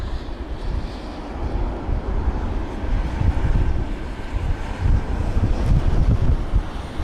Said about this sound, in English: And the wind is picking up, I can tell you that.